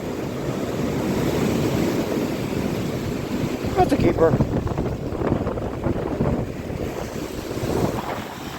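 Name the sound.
ocean waves on a beach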